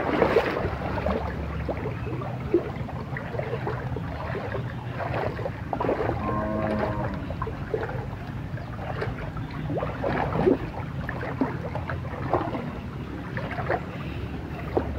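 Heavy rain and rushing floodwater in a flooded house reaching the kitchen, a dense continuous roar and splashing wash with scattered knocks and clatter throughout.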